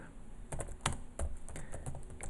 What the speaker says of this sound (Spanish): tipeando